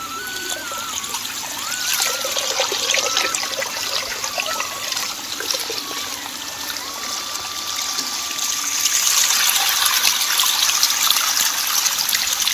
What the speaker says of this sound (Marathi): तुम्हाला पाण्याचा आवाज येत असेल कदाचित छान फ्लो होते बघा